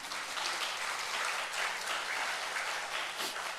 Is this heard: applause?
yes